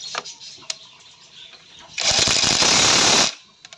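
A DeWalt 198V 1300 Nm cordless impact wrench, bought online, runs in one loud sustained burst of about a second and a half, then cuts off automatically, with a few faint clicks and handling sounds before and after.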